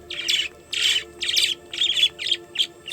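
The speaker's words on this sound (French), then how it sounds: "C'est les merles des Caraïbes" Carib grackles in the Dominican Republic give a series of harsh, squawking calls in short bursts, about six loud close phrases spaced evenly over a few seconds, with no one talking.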